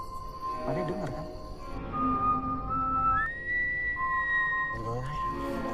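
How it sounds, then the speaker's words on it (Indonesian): Soft whistled tones glide and hold steadily, one pitch rising midway, over a low murmur of voices and background noise. "Kayak ada yang siul."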